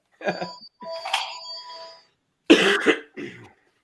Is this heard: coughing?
yes